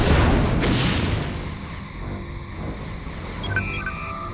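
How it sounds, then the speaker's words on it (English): Space-battle explosions in the Star Trek Bridge Commander game, a loud booming blast at the start that rumbles and decays, followed by fainter distant rumbling and short electronic tones. "I am detecting nearby explosions."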